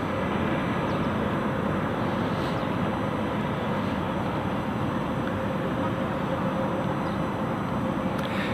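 A Dornier aircraft inbound from Rotterdam at London City Airport, heard as a constant, broad engine drone that stays at an even level throughout, with no clear change in distance.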